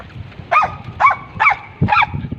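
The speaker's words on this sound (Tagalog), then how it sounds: "Ito yung aso namin na pinapakain namin lagi." A dog barks four times at a steady pace, sharp and fairly close, with low background noise between the barks.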